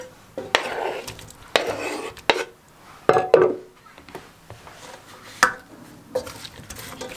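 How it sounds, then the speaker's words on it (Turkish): A spoon scrapes and knocks inside a pot while stirring diced tomatoes, in irregular bursts, with clattering stirring sounds close up and short pauses between strokes. "Bunları bir güzel karıştırayım."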